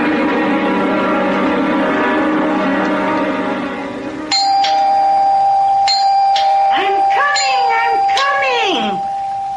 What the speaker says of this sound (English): Don't have to rip the bell off the door